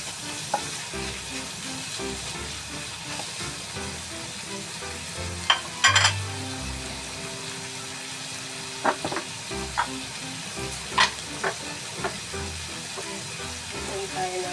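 Hotdogs fry in a pan with a steady, loud sizzle while being stirred, scraping and clinking sounds popping up at intervals throughout, with no talking.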